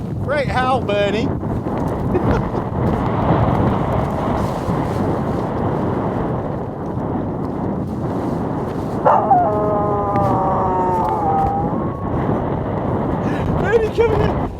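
A dog howls in a snowstorm at a winter campsite, long wavering tones rising near the start, again mid-clip and at the end, over a constant roar of blizzard wind buffeting the microphone.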